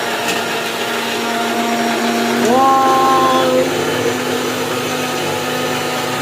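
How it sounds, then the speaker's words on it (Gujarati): Mixer grinder crushing boiled vegetables for paneer gravy, a steady whirring motor drone that rises in pitch partway through as the blades speed up, heard alone and fairly close. "હવે આને મિક્સરમાં ક્રશ કરવાનું."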